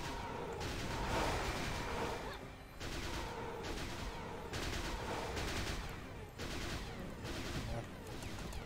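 Shooting attacks in the online game Cabal form a dense, continuous barrage of rapid gunfire and impacts, loud and unbroken, with brief dips in intensity every couple of seconds.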